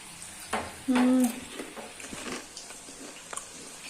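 Cabbage for gobi roasts in a hot pan with soft sizzling and a few stirring scrapes, fairly quiet and close, broken by a brief high tone and occasional clicks.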